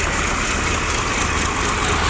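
A tractor engine drives a cumin thresher at a steady 1100 rpm, producing a loud, continuous idling rumble with a dense mechanical roar that never lets up.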